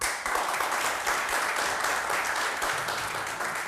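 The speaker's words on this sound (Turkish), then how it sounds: "bir alkış istiyorum" A studio audience on a Turkish word quiz show claps steadily, a continuous wash of applause with no talk over it.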